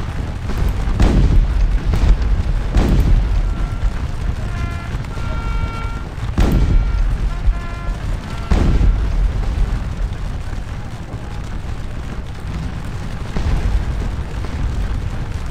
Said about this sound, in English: I can definitely see some of our cannons targeting that area